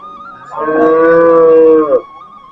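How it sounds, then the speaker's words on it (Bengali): A very large cow from Kushtia at a village cattle market lets out one long, loud, close moo lasting about a second and a half, standing alone with no talk over it. "বিশাল আকৃতির একটি গরু"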